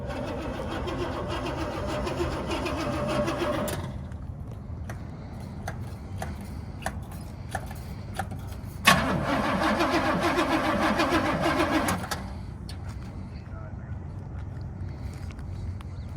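A car engine cranks, catches after a few seconds of clicking and sputtering, and settles into a steady mid-pitched idle close by in a garage, with brief talk nearby.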